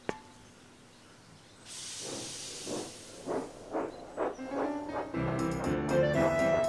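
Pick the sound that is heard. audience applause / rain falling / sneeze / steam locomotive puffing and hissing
steam locomotive puffing and hissing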